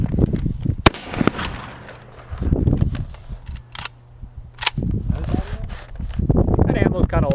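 An AK-47 rifle firing old ammunition at a shooting range: a few sharp, loud shots spaced irregularly, with people talking nearby between and around the reports.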